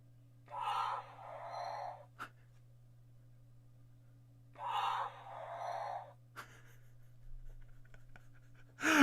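Two slow, raspy breaths from a snoring dog, with long quiet gaps between them, a faint steady hum and a few soft clicks.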